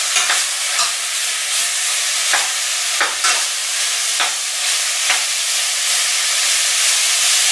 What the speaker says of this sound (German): das alles schön anbraten